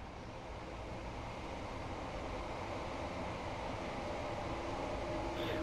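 A train rumbles past in Train Sim World 3 on the Three Bridges to London Victoria route, a steady, loud, broadband roar that holds evenly throughout with no voices over it.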